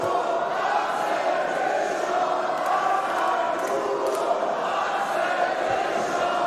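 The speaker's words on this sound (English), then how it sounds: "Crowd here on fire for both fighters" Wrestling crowd at a Catch Factory Championship match, Axel Tischer versus Fast Time Moodo, roaring in a steady, dense wall of cheering and shouting that holds evenly throughout without letting up.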